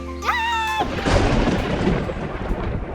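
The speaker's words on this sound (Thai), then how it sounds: "ลมพัดแรงฝนเริ่มตกเป็นละอองแล้วกลายเป็นพายุ" A thunderstorm sound effect for a children's story: after a brief tonal musical sting, a loud rumble of thunder rolls in and continues with rain-like noise.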